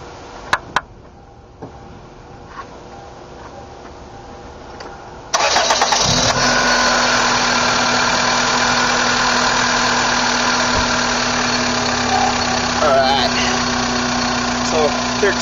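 A car engine is cranked with a starter and catches, then settles into a steady, loud, close idle that runs for about ten seconds. Quiet clicks and faint background sound come before it starts.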